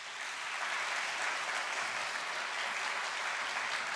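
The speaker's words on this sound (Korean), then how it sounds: "박수 한번 할까요?" A church congregation at a Sunday worship service applauds together, a dense, even wash of clapping that holds steady throughout, with no voices over it.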